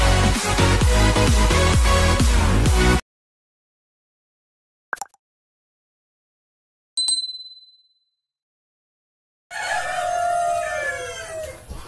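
A giant UK Light Brahma rooster kept with UK partridge hens crows loudly and close by near the end, after a dense noisy burst, silence and a couple of sharp metallic dings.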